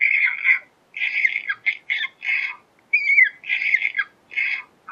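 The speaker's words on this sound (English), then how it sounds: "Next one's a rodent." Rapid, high squeaks of a rodent distress call come from a Primos Dogg Catcher electronic predator call, bursts of shrill squealing broken by brief gaps, fairly loud and alone.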